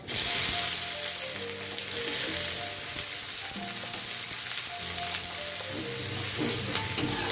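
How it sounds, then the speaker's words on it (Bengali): Onion, bay leaf and cumin seeds sizzle steadily in hot mustard oil, a loud continuous frying hiss with faint tonal music underneath throughout, no talking. "দিয়ে দিলাম শস্যর তেল তেজপাতা একটু জিরে ফোড়ন একটু পেঁয়াজ দিয়ে দিলাম"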